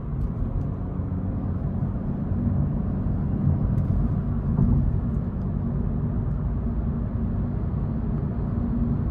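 A 2025 Honda Civic Hybrid Sport with a one-speed direct-drive transmission cruising in normal drive mode, heard as a steady low road and drivetrain rumble from inside the cabin, continuous and even throughout.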